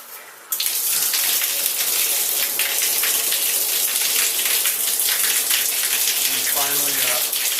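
Shower body spray jets in a remodeled bathroom switch on abruptly after a brief pause, then run in a loud, steady close-up gush of spraying water, with a voice speaking briefly underneath near the end.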